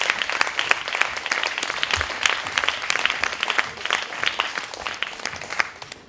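Audience at an evening event at the BBox breaks into sustained applause, dense steady clapping from many hands lasting several seconds with no talk over it.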